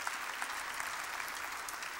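A church congregation claps during a Korean sermon, with dense, steady applause that stays even and slightly distant throughout, and no speech on top.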